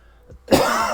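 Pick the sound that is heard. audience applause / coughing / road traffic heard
coughing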